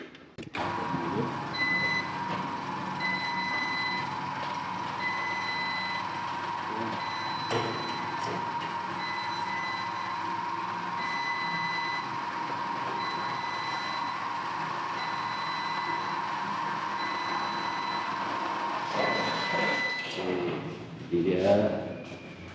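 An electronic wireless folding garage gate closes with steady motor hum and repeated high warning beeps throughout, ending with a brief louder clatter as it settles.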